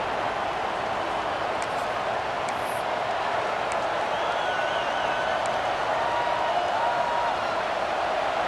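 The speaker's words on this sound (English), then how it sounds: "Listen to the crowd energy here in the early going." Steady roar of a packed stadium crowd in an EA Sports college football video game, a dense wash of noise that holds constant throughout, with faint whistles and cheers rising above it.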